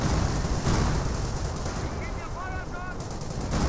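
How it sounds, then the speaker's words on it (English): Pak 38 anti-tank gun firing in the video game Company of Heroes amid a loud, continuous battle din of gunfire and explosions, with a voice commentating over the top. "Pak-38 is firing away"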